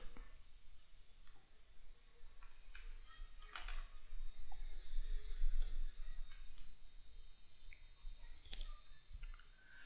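Computer mouse clicks while operating CATIA sketch software: a few sharp, isolated clicks spaced several seconds apart, quiet and close, over a low steady hiss with no talking.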